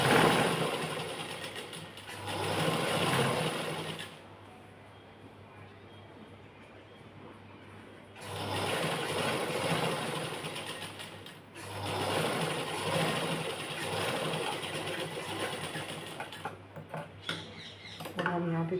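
A sewing machine stitches a kurti in bursts of fast rattling, running for a few seconds, pausing, then running again, close and moderately loud with a quiet voice between runs.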